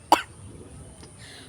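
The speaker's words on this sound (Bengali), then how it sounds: "কাশি হয়ে গেছে" One short, sharp cough, close and fairly loud, followed by quiet background.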